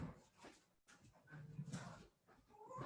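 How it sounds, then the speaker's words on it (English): Indoor dog whimpering and whining, soft high whines and snuffly pants in short bursts, faint and close in a quiet room. "I have to keep my dog in the house"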